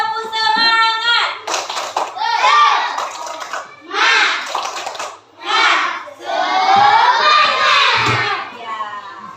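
Classroom of primary school children clapping the rhythmic Indonesian "tepuk semangat" cheer clap, loud bursts of group claps mixed with children's shouting and a teacher's voice talking between phrases.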